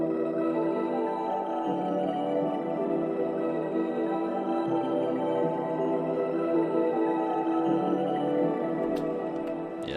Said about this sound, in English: I got this pad and it sounds like this.